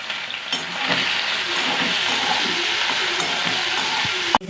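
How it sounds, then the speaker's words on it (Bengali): Prawns fry hard in mustard oil in a wok, a loud, steady sizzle and hiss that never lets up, with a sharp clatter right at the end. "চিংড়িগুলোকে খুব কিন্তু বেশি ভাজবো না, ওই 2 মিনিটের মতো নাড়াচাড়া করে নামিয়ে নেব"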